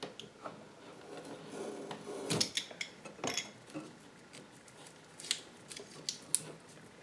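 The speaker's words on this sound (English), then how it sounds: "we're going to take our utility knife and we're just going to clean up some of this insulation on here" A utility knife trims insulation off electrical wire while an outlet is added to an existing circuit: scattered faint scrapes, clicks and small cutting sounds at close range, irregular and quiet, with no talk.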